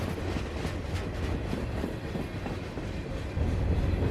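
A CSX freight train rolls past at Nickajack, giving a continuous, loud rumble with a rhythmic clatter of wheels on rails close to the track.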